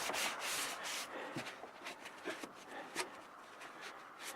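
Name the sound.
rubbing sealant into a roof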